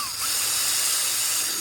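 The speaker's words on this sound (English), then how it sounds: "drill your pilot hole right there" A steady high-pitched whine of a power drill boring a pilot hole in a Sur Ron electric dirt bike, running continuously at close range, with no pauses and no voices.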